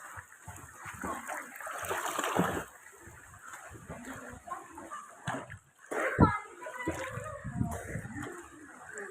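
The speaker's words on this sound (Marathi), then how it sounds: "हे बघू शकता स्विमिंग पूलमध्ये आलेले आहेत." People splash in a swimming pool, giving bursts of sloshing water and splatter at a moderate distance, with voices talking and calling out between the splashes.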